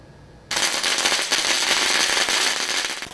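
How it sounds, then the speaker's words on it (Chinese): A string of firecrackers goes off after a short quiet pause, a dense rapid crackle of loud bangs that continues close and unbroken to the end. "鞭炮给他放下去了"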